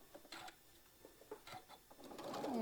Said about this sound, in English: we're going to just sew all the way down